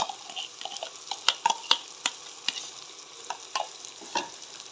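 Roasted, mashed brinjal going into a hot pan and being stirred, with scattered sharp scraping and clinking ticks over a steady soft sizzle, close by and moderately loud, no talk.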